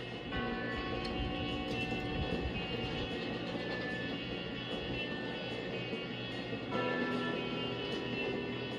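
A continuous, steady rumble of a moving train in the video game Red Dead Redemption 2, with rattling mechanical noise and tonal hum, loud and unbroken throughout, with no voices.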